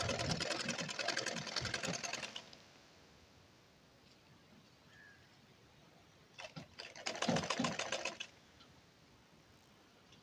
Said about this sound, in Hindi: पूरे गले पर एक बूट की सिलाई लगाते चले जाना है।